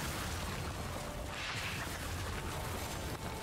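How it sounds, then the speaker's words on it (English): A loud explosion goes off in the video game Lies of P, a sudden burst followed by a dense, roaring rumble that holds steady over several seconds with no voices. "those explosions don't fuck around"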